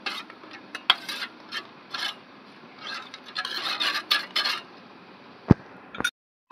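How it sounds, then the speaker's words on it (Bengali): A spoon scrapes and clinks against a metal pot, stirring turmeric and a little sugar into water, in short rhythmic rasping strokes, fairly close, with a few sharper knocks near the end. "ভালো করে জলের মধ্যে মিশিয়ে নিচ্ছি।"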